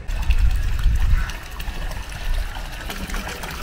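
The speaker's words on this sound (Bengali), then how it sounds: "এই যে মূল কুণ্ড থেকে এখানে দেখুন এভাবে জলের ধারাটা বয়ে আসছে" Stream of water flowing from the main pool at a temple site in Amarkantak, a steady close trickling and gurgling with low rumble, louder at first and easing slightly later.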